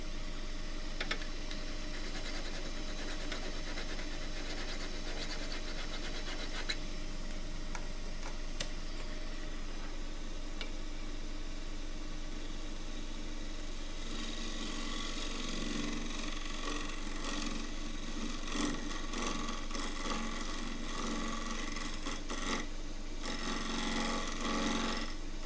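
Steady, faint rasping and rubbing of a woodturning tool's edge being rehoned by hand, continuous with small ticks and scrapes, growing slightly busier and brighter toward the end, with no voices.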